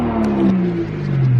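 Toyota Chaser JZX100 engine revving, a loud close-up tone that rises and then sinks slowly as the revs fall back, heard alone.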